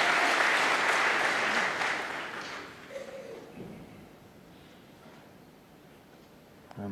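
A crowd of 2,000 at Alexandra Palace during the Masters snooker final gives loud, sustained applause that fades away into a quieter hall hum.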